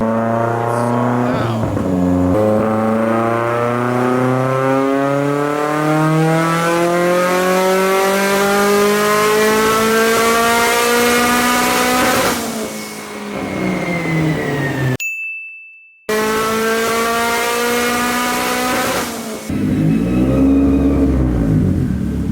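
A Mitsubishi Lancer Evolution engine revs hard on a dyno, climbing steadily in pitch under load, drops off briefly, then roars back up again, loud and close.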